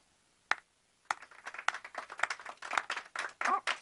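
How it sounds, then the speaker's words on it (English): A single hand clap, then a run of a few people clapping along in an uneven, fairly close rhythm at a children's singalong with Grover, the furry Muppet. "today, we will use our hands and clap"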